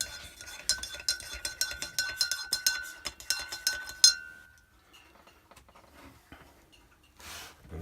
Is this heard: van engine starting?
no